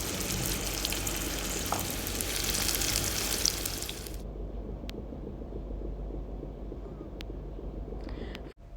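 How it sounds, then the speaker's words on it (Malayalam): Burger patties shallow-frying in a tablespoon of oil in a hot pan give a loud, steady sizzle that grows briefly stronger, then settles to a softer crackle with a few sharp pops near the end. "അതിനുവേണ്ടി ഒരു ചൂടായ പാനിലേക്ക് 1 ടേബിൾ സ്പൂൺ ഓയിൽ ചേർത്ത് പാറ്റീസ് ഇട്ടിട്ട് നല്ലപോലെ"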